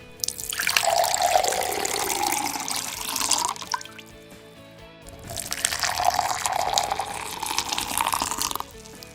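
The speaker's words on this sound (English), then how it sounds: "Close your eyes and listen to the sound of the water and only focus on that for a second." Water pours into two glasses one after the other, cold first and then hot, each a bright splashing stream of a few seconds separated by a short pause.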